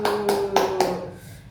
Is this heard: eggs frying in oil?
no